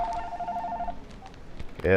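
A cordless phone rings with a steady warbling electronic tone for about a second, followed by faint rustling and then a voice.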